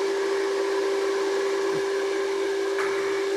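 A motor for a mini swimming pool pump and vacuum suction runs steadily, giving a constant, close electric hum with a strong steady tone and airy whirring, with no pauses.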